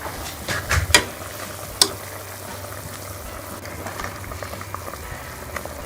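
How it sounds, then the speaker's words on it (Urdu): A pot of vegetable soup simmers steadily with soft continuous bubbling and low burbling, a few faint clinks near the start, then an even gentle boil with no talking. "اب اس کو ہم مزید جو ہے وہ 7 سے 8 منٹ پکنے دیں گے سبزیوں کو گلنے تک"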